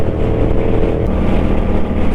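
Strong wind roars while riding a big bike motorcycle on a highway tour ride in Santa Rita, Guiguinto, Bulacan, a loud, steady, close buffeting rumble mixed with engine drone and no talking.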